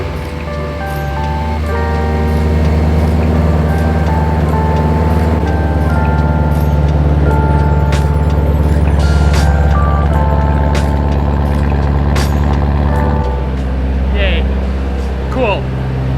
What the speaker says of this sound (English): Cool, my car runs.